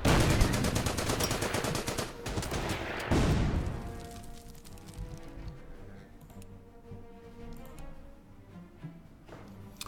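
Heavy gunfire from an attack on Belgian bunkers in the WW2 strategy game Strategic Command crackles in fast, loud bursts, then thins out and trails into scattered faint shots and ticking.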